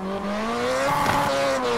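A car slides under handbrake in a racing simulator game, its engine droning at a steady pitch while tires squeal and scrub through the skid. The sound is continuous and loud, with no voices.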